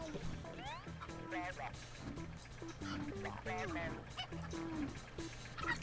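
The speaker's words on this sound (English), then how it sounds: "Are they chickens?" Chickens clucking in the co-op video game Human Fall Flat, short bird-like clucks and squawks scattered among game sounds, with players talking over them.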